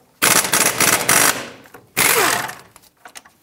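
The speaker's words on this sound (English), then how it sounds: "remove both of the caliper bracket bolts so we can remove the entire caliper and bracket assembly" A tool spins out the caliper bracket bolts on a 2007-2014 Chevrolet Silverado 2500 HD. Two loud, close, rattling hammering bursts come one after another, each about a second long, then a few faint clicks.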